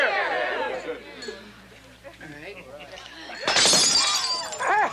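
Drinking glasses shatter loudly in a movie scene, a sudden burst of breaking glass with tinkling shards, following excited people talking and cheering.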